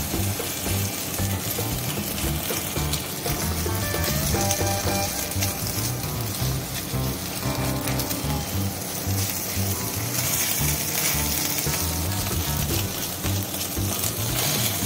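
An egg being scrambled into small crumbly bits in a hot pan for restaurant-style mixed fried rice, with continuous loud sizzling and scraping mixed with a dense, busy layer of background sound.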